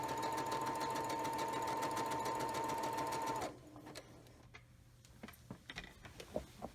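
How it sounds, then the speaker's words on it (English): A sewing machine stitches an apron skirt at a steady, even speed for about three and a half seconds, then stops, leaving faint clicks and handling noises. "If you have a machine like mine, you can set it to a slower or medium stitch speed."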